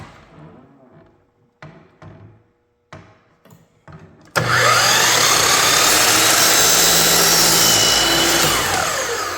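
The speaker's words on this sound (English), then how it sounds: "So I'll be drilling a hole right in the center and attaching those." A power drill bores into a wooden dowel for a scrollwork shelf, starting at about four seconds as a loud, steady, continuous whine that holds to the end, after a few short handling knocks.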